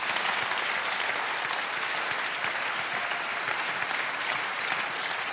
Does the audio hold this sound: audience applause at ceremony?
yes